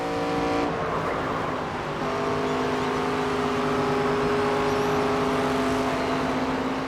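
Race car engine in NASCAR 25 at Dover, held at a steady high-revving drone for the whole stretch, loud and close with a shift in pitch near the start and no talk over it.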